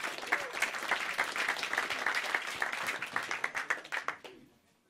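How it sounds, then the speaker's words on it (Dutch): Audience applause for Labour, CDA and GreenLeft participants at a live election debate, dense clapping from a crowd that holds steady for about four seconds, then thins out and fades quickly. "Applaus en neem plaats."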